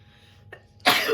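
One forceful sneeze bursting out after a brief inhale, loud and close.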